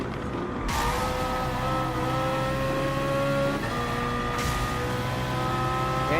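Racing car engines in Gran Turismo Sport, including a BMW M3 GT Gr.3 and a Ford GT, whining steadily at high revs with pitch climbing through gear changes, a continuous loud drone without talk.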